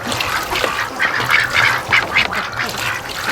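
Hungry breeding ducks, including Muscovies, quack in a close, busy flock with repeated overlapping calls and a splashy, muddy background, no talking.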